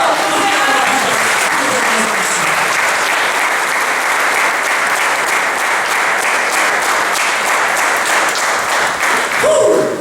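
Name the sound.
applause for the Lord in church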